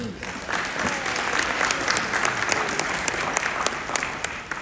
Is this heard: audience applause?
yes